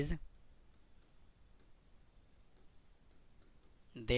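Writing on a board during a statistics lesson on the one-sample t-test, a soft steady run of quick scratching and tapping strokes, with a voice briefly at the start and end.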